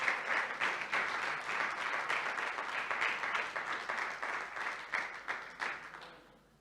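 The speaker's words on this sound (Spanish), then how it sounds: "Vamos a recibir la palabra de Dios con un fuerte aplauso" A church congregation gives loud, sustained applause filling the hall for about six seconds with dense, steady clapping, then tapering off at the end.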